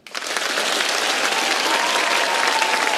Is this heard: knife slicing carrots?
no